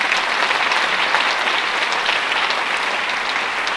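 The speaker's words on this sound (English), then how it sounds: "let's give them a big round of applause as well" Steady, dense audience applause at a parent education evening fills the room for the whole stretch, loud and continuous with no voices over it.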